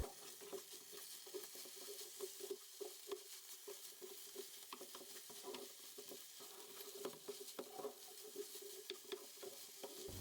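Roasted potatoes with salt, black pepper, chili flakes and thyme are stirred in a pan, giving a soft, steady sizzle with faint scraping and patter, quiet and close.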